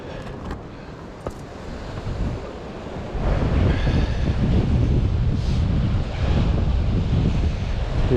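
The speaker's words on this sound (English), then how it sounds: "real windy morning." Strong wind buffets the microphone on rocky Cornish coastline, with surf rumbling below; gusts start lighter and then swell into a loud, steady roar.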